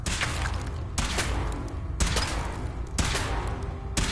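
A weapon being test-fired during a power armor suit trial in Fallout 4 lets off loud bursts of gunfire about once per second, each a sharp crack followed by a rumbling tail, with no voices.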